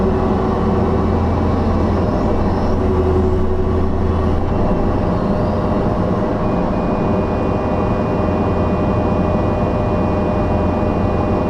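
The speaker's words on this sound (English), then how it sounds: "So I'll grab some gravel." A Cat 305.5E2 mini excavator scoops gravel, its engine a steady, loud, close drone with clanking and scraping from the bucket throughout.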